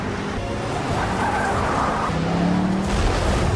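In a film chase, a car peels away with tires skidding and squealing, a loud, close screech sliding in pitch over engine roar, with no speech.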